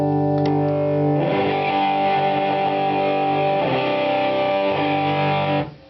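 Heavily distorted guitar rings out through the gain channel of a Matchless Hotbox pedal, thick and saturated chords sustaining loudly before cutting off at the end.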